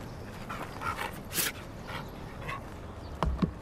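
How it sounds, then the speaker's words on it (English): A dog pants steadily and fairly close over a noisy background, with a sharper burst partway through and a couple of brief thumps near the end. "He's a beautiful dog."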